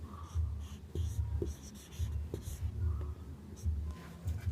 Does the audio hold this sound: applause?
no